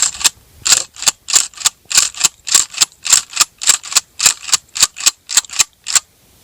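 Mossberg 590 pump-action shotgun cycling eight or more shells, a rapid, even series of about seventeen sharp metallic clacks close by, loud and steady with no talking.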